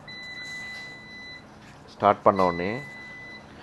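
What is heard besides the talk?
laundry washing machine beeping as it starts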